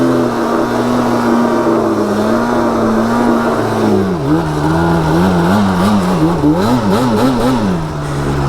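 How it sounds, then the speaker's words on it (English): Yamaha Banshee quad's two-stroke engine revving hard to high RPMs, a loud, close, continuous buzzing drone that wavers and climbs in pitch as the throttle is worked, with no talk over it. "You gotta dump that throttle, get it high in RPMs."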